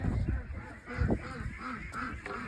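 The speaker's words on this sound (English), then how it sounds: "These are all the chickens and ducks." Ducks and chickens inside a coop calling together, a faint cluster of short honking quacks and clucks repeating in quick succession, with no talking over them.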